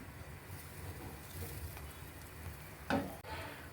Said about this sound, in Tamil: சேமியா வறுக்கு இப்போ ஒரு 25 கிராம் போட்டிருக்கேன்.